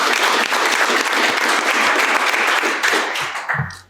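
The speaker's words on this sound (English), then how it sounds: "round of applause to Erica for being here" An audience applauds a guest at a venture capital event, with steady dense clapping that fills the room at close range and thins out toward the end.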